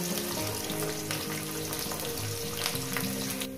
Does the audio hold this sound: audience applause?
no